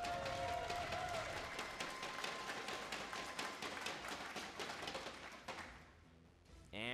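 Audience applause for an esports team at a World of Tanks league finals event, a dense sustained crowd clapping that holds steady and then fades toward the end.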